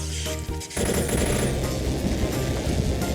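Gunfire in the Skibidi Toilet video game, a dense, loud burst of rapid shots that starts abruptly after a brief quieter moment and continues steadily, with a faint laser-like whine near the start.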